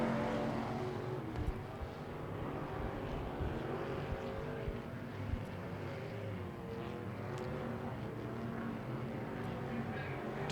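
Factory stock race cars run at Tulsa Speedway, a steady, distant roar of several engines with layered whining tones rising and falling as they circle the track.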